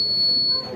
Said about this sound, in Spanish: fíjense que aquí tengo una onda